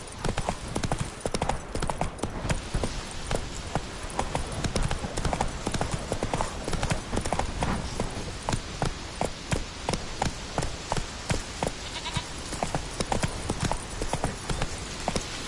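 Horse hooves galloping in The Witcher 3: Wild Hunt, next-gen PS5 version: a fast, steady clip-clop that runs close and loud for the whole stretch, over a busy game soundscape with faint voice shouts.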